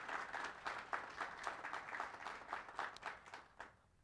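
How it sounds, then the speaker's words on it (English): A graduation audience at the US Army War College applauds the Salute Battery and Army Band, a soft, fairly distant round of clapping that trails off at the end. "I'd like to give them another round of applause if we could."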